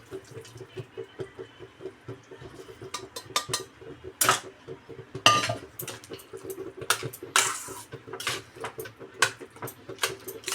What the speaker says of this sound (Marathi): आपण एक शिट्टी करून घेतलेलं फणस ते आपण इथे आता ॲड करणार आहोत